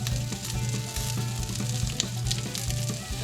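Tomato sausage frying in a pan with grease and avocado oil, giving a steady close sizzle with rhythmic crackles and spatters and a faint repeating hum underneath, no talk.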